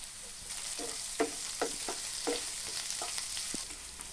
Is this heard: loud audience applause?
no